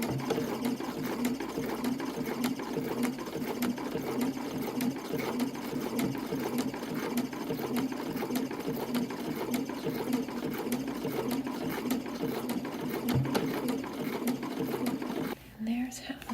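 A domestic sewing machine runs a continuous zigzag stitch through chemise fabric, fitted with an open toe foot. The steady motor whir and needle chatter stay close and loud, with a voice talking softly beneath it.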